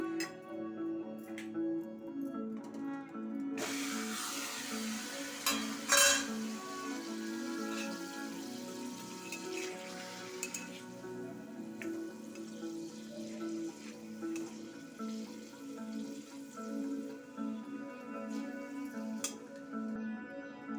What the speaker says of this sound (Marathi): पनीर मी जरा तेलामध्ये परतवून घेते